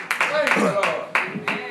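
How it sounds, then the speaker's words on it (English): A church congregation claps in praise, a few sharp, evenly spaced hand claps mixed with voices. "Let's give the Lord a hand clap of praise."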